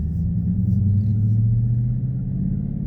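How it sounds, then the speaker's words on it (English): Steady low engine drone of a Dodge Challenger with a muffler delete, heard from inside the cabin while cruising in regular mode, a continuous loud rumble with a slight rise in pitch and no talking. "Now we inside the Challenger with a muffler delete."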